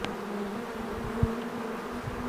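A swarm of bees buzzes steadily all around, a dense close drone with a faint knock partway through, during a swarm capture in Red Bluff.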